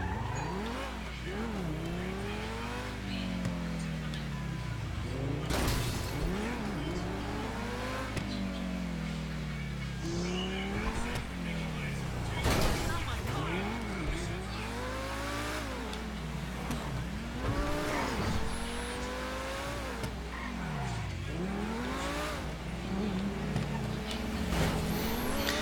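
A car in GTA Online skids and squeals its tires through repeated swerves, with sweeping engine revs and sharp impacts, all under a continuous hum and occasional talk.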